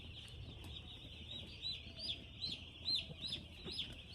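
Broiler chicks in a poultry shed during winter, a crowd of birds chirping and peeping continuously at moderate level, with repeated brighter calls rising above the steady flock noise.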